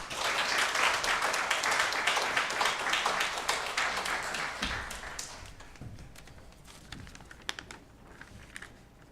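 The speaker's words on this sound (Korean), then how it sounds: "우리 박수로 환영하겠습니다" A church congregation applauds to welcome a young speaker at a Sunday service, dense clapping that starts loud and thins out into scattered claps.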